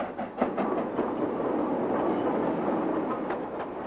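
LNER steam train rolling along the rails, a steady broadband rumble with faint rhythmic clatter, continuous and fairly close, with no voices.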